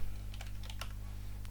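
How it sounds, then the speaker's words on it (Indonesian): Keys tapped on a computer keyboard while code is entered, a few quick irregular clicks and short bursts against a steady electrical hum, fairly quiet and close. "kode berikutnya kita ketik di sini"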